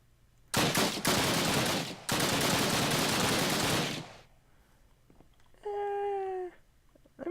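MP40 submachine gun in the Minecraft Flans Mod video game firing two loud, rapid bursts of automatic fire, each lasting about one to two seconds, then a short tonal cry after a pause.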